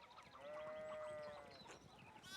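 A sheep bleats in the medieval game Pentiment, a single wavering, tonal bleat lasting about a second, fairly faint against quiet background.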